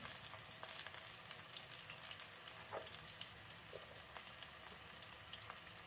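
Green chillies fry with spices such as turmeric and asafoetida in a pan for a gooseberry chilli dish, a faint, steady crackling sizzle with scattered small pops.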